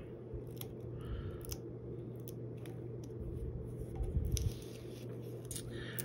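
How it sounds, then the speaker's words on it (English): Scissors snip through conductive tape while a light-up paper-circuit skull box is being built, giving brief quiet cuts over a steady low background hum with no talking. "Just use your scissors to cut it off."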